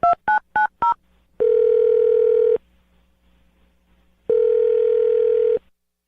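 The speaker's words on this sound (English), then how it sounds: "I'm going to dial her phone number right now." Phone call being placed: four quick keypad beeps in a rapid burst, then two long steady ringback tones separated by a silent pause, clear and close.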